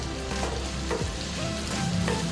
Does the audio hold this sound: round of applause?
no